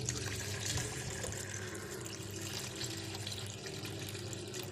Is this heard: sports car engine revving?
no